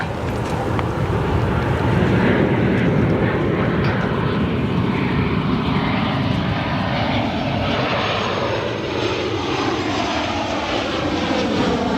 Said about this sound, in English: Next arrival, Southwest Airlines Boeing 737 from Baltimore, arriving here at Chicago O'Hare International Airport right now.